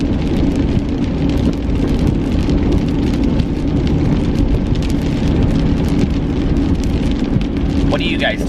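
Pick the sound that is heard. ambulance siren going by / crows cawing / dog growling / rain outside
rain outside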